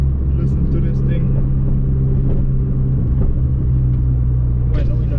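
A Fiat Abarth fitted with a Forge blow-off valve and suffering an ongoing fault drives along, its engine giving a steady, loud low rumble heard from inside the car, with faint brief higher hisses here and there.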